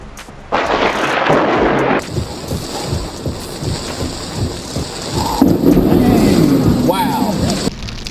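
A nearby lightning strike and loud thunder crack over Lake Dora close to a boat, followed by a rolling rumble with rain, while people shout and exclaim in alarm.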